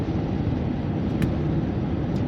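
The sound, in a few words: garbage truck with a rig front passing on the road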